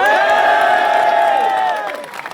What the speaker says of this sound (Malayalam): അതൊന്ന് കൈയടിച്ച് പാസ്സാക്കി തരും